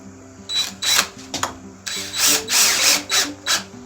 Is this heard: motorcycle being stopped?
no